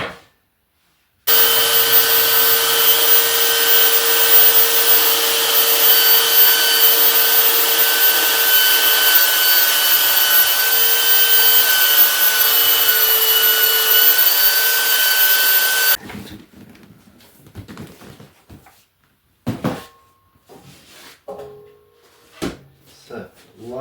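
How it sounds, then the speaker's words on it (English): A belt sander smoothing the edge of a wooden guitar body runs with a steady, loud whine for about fifteen seconds, then cuts off, leaving scattered handling knocks and faint movement. "I'm going to pretty up the line with the belt sander."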